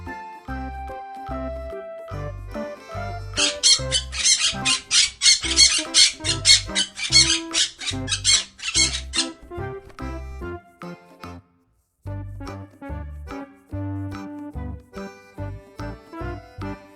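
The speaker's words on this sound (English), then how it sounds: "P for parrot." A parrot squawks in a fast run of loud, harsh bursts over a bouncy children's music track, then the music carries on alone.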